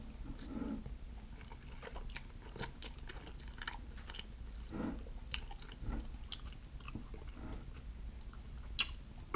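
Close, quiet chewing and slurping of spicy fire noodles, soft wet crunches and mouth sounds repeating irregularly with no talking.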